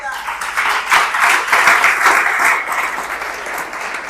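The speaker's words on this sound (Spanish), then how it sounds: "Denle un aplauso al Señor" A congregation claps loudly and steadily during a prayer and fasting service, a dense sustained wash of applause with voices mixed in underneath.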